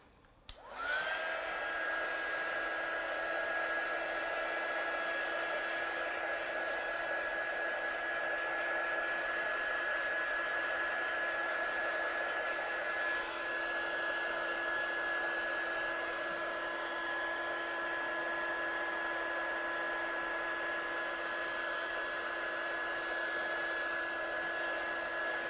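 A heat gun switches on and blows steadily to dry paint on a handmade card, a continuous fan roar with a high whine that stays level for the whole stretch, close and alone.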